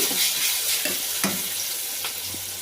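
Onions and garlic paste frying in a pan while being stirred: a steady close sizzle broken by a few scraping spoon strokes at irregular intervals.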